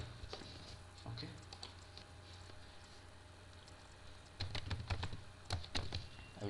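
Keystrokes on a computer keyboard during a Python coding session, a few scattered clicks early, then a denser run of sharp taps near the end, close and fairly quiet.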